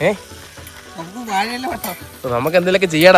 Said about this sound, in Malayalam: നമ്മുടെ കാടയൊക്കെ നല്ല അടിപൊളിയായിട്ട് ഇങ്ങനെ മുരിഞ്ഞോണ്ടിരിക്കുകയാണ് കേട്ടോ